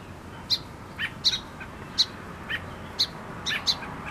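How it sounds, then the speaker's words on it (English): Short, high bird chirps repeat at a steady pace, about one every half second, fairly close over a quiet background. "You hear those birds? I think they got a nest over there."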